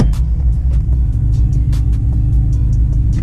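A Honda Civic Type R EP3 rally car of about 280 horsepower, its engine a loud, steady rumble held throughout at close range, with no voices.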